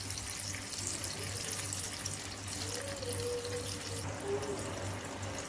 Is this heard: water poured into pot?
yes